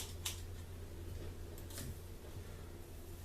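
Scissors snip into the ends of hair during an at-home trim, two quick, soft cuts over quiet room noise, close by.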